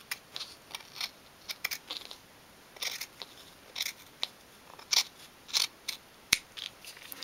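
Small scissors snip card for a 1/12th scale dolls house sofa, giving a string of short, crisp, close cuts in irregular bursts with quiet pauses between, no talking.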